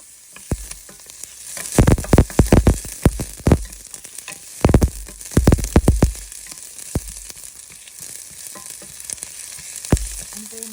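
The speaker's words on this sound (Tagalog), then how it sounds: "Maggisa muna tayo ng bawang. Natin ang sibuyas." Garlic and onion sautéing in a pan, crackling and sizzling in bursts as they are stirred, loud and close, with quieter stretches between the stirring with no talk.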